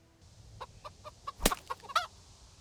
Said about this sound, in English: I still had some bloodlust, so I punched some chickens.